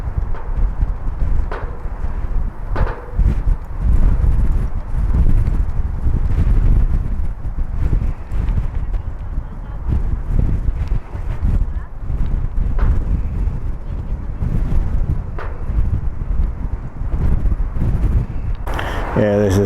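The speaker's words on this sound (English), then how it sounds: "Very windy." Strong gusty wind buffets the microphone beside the runway at Malaga airport during plane spotting, a loud continuous low rumble with surging gusts throughout.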